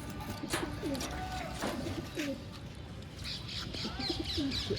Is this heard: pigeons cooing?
yes